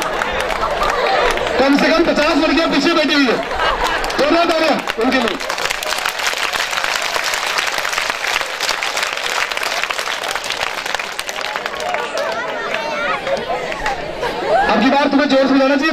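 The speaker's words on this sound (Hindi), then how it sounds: "जोरदार तालियां उनके लिए" An audience at a motivational seminar applauds with sustained clapping and crowd chatter, while a voice speaks over the noise at the start and again near the end.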